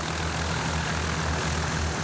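Small propeller airplanes at an air show giving flights to children drone steadily and loudly, a continuous engine hum with low pulsing tones and no pauses.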